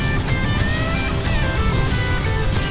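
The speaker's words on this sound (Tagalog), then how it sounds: "traffic malala" Heavy city road traffic of cars and motorcycles in the uptown business district of Cagayan de Oro, a constant loud rumble of engines with passing vehicles and no talk.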